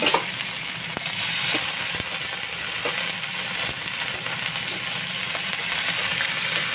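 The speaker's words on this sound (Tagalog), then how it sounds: "Mag-umpisa na tayo magluto ng togi." Bean sprouts stir-frying in a hot pan, a dense steady sizzle that runs unbroken throughout with occasional soft knocks of a spatula, close and fairly loud, with no talking.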